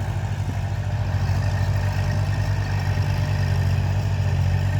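A Kubota tractor engine, an L5018SP or L3608 working a dry rice paddy, runs at a steady, loud low rumble with a constant throbbing hum and no talk.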